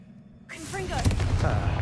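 A Confringo blasting spell from the Hogwarts Legacy video game bursts in abruptly, a whooshing cast rising into a loud, sustained crackling explosion that fills the short clip.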